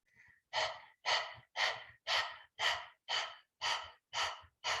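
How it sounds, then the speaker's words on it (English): Rhythmic open-mouth panting like a dog, done as a yoga breathing exercise in a chair yoga session: nine even, breathy huffs in steady succession, close and clear, with no talking. "stick the tongue out gently and pant like a dog through the mouth"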